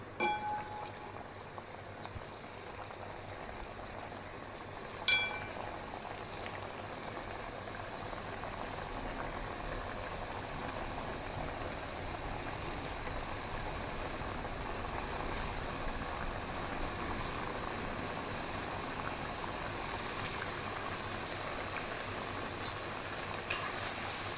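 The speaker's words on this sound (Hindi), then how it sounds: "अब नमक पारा फ्राई करने के लिए हम घी को गरम कर लिए हैं। अब इसमें एक एक कर हम इस तरह डालेंगे।" Namak para dough pieces fry in hot ghee with a steady, even bubbling fizz throughout, mostly moderate and uniform, with one brief clink near the start.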